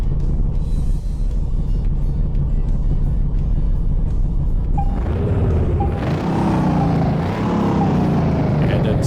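A supercharged V8 in a Dodge Challenger R/T from Car Mechanic Simulator 2018, starting up after a low steady hum and then revving loud and harsh with rising and falling pitch sweeps and a distorted edge.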